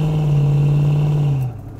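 A 1973 Plymouth Cuda with a 5.9L engine pulling hard in second gear, a loud, steady engine drone held close up, then easing off abruptly near the end.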